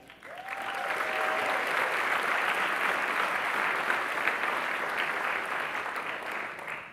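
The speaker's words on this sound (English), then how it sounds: "Let's hear a huge round of applause for all of you in the audience today." A large audience at a county economic development association's annual meeting breaks into applause. The clapping swells quickly into a dense, steady roar, holds for several seconds and then starts to taper.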